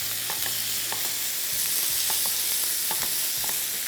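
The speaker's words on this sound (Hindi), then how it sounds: "तेज़ आंच पे पहले इसको करेंगे फ्राई" Boneless chicken pieces fry in hot oil on a high flame for an omelette, a close, steady sizzle broken by regular clicks of a utensil stirring and tapping the pan, with no voices.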